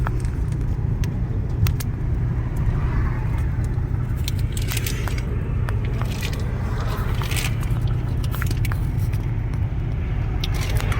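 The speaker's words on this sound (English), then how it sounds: "There's that pink car again." A pink Honda passes along the road, with its steady road rumble and tyre noise sitting under faint scattered ticks and scrapes.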